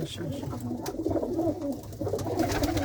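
Pigeons in a loft, including hens of a fine breed, coo in a steady low murmur that runs throughout, close and fairly loud, with faint voices in the background.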